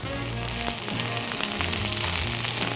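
A curry leaves dosa sizzles in oil on a hot pan, giving a steady, close, crackling fry that carries on for the whole short stretch with no talking.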